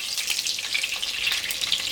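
Hot dogs sizzling steadily in a frying pan, a continuous crackling hiss of hot fat, close and fairly loud with no voices.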